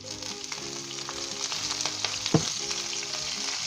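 Green chilies frying in a pan with golden-brown ginger and onion make a dense, close sizzle, broken by occasional stirring scrapes and one sharper clack, with no speech.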